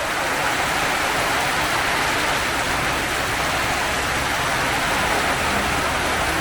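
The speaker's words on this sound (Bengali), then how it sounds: "প্রচণ্ড বৃষ্টি হচ্ছে" Heavy rain pours down steadily at a roadside stop where bikers shelter in a closed shop during a ride toward Darjeeling, a dense, loud, unbroken hiss with no voices.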